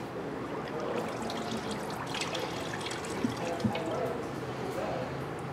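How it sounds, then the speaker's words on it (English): Coolant pours into a car radiator, a quiet continuous trickle with a couple of small glugs and splashes, heard close with a voice talking over it. "we're gonna go ahead and fill it up the rest of the way"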